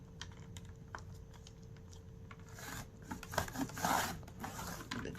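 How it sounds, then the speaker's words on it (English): A blade slices along a line across a journal page, a soft scraping rasp that builds and grows louder near the end, preceded by light clicks and taps at close range. "I'm gonna cut at that same line right here"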